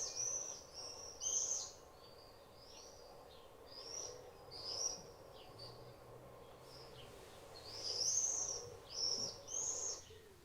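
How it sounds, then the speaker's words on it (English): Swifts, urban birds over the town of Hungerford, give repeated shrill screaming calls in short bursts spread through the clip. The calls sit fairly faint above a low steady background rumble. "And that's the swift's call again."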